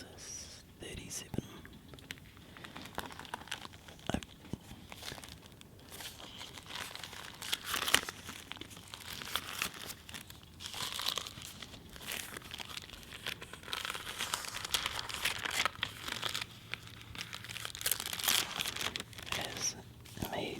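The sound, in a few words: turning crunchy pages of a very old Bible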